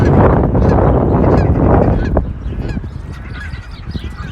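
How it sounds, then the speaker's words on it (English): Gulls call from the ice of Wascana Lake in Regina in early April, a loud, dense flock chorus that thins out midway into scattered, more distant cries. "it's the gulls over there on the ice."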